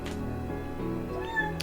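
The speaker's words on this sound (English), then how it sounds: "Meow, meow." A cat meows with a clear, close, tonal call, heard once or twice over a steady low indoor background, with no talking.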